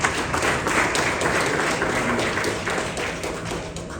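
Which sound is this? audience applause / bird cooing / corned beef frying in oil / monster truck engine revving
audience applause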